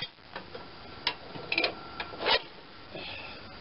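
A dry, sticky gear shifter on a Tecumseh 10 hp MTD 33-inch snowblower is worked back and forth, giving scattered close clicks and metallic clunks over a low background hiss.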